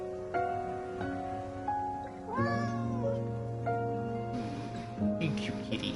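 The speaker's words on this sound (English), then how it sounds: "Oh, we found our kitty." A pet cat named Amber meows repeatedly outdoors, several clear drawn-out calls rising and falling close by, with a person talking softly between them.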